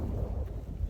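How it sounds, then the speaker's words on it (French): Wind buffets the microphone at a mountain summit above 2000 metres, a low, rumbling gusty roar that surges and fades across the moment. "avec le vent là qui est au sommet, parce qu'on est à un peu plus de 2000 mètres d'altitude"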